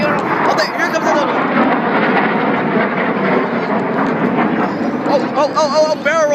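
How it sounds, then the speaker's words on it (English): Loud roar of a low-passing F-18 fighter jet at an air show, a broad sustained rumble filling the whole clip, with excited spectators talking over it. "Oh, that's so loud. That's an F-18."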